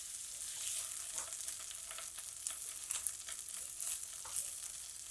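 Boiled, peeled potato chunks and okra sizzle in a hot pan for a masala aloo bhindi stir-fry. A steady, fairly quiet frying hiss runs throughout, with light stirring scrapes now and then.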